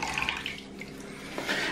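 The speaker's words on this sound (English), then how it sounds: "I'm just gonna soak that in water." A standard kitchen sponge is soaked in water for cleaning a glazed ceramic sculpture, giving soft, close watery splashes and drips over a low background hiss, with no talking.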